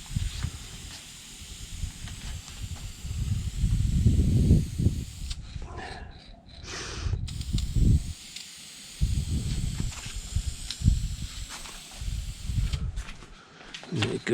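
Spray gun hissing as a coat of finish goes onto Jaguar MKII wooden trim outdoors in wind, in long steady bursts with brief pauses between passes, fairly close and loud.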